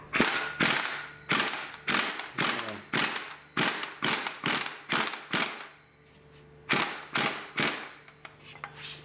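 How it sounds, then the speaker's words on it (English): An impact gun on a stubborn bolt of a Nissan KA24DE engine from a 240SX, firing in repeated loud rattling bursts of about half a second each, about a dozen in quick succession with one brief pause, close up. "Ours is being a little stubborn, so we're going to use an impact gun on it"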